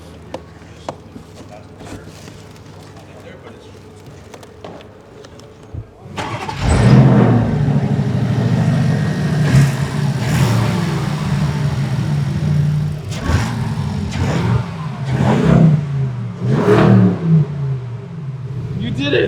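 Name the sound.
car engine revving with new intake system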